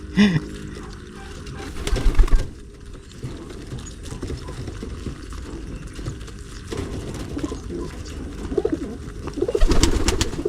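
Pigeons being hand-fed on their second day make low murmuring coos in a busy pen, with wing flutters and scuffling bursts near the start and end.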